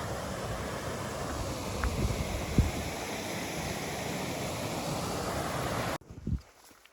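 A small waterfall beside a bridge on a mountain hiking trail in Glacier National Park, a steady broadband rush of falling water close to the microphone, with a few knocks, cutting off abruptly near the end.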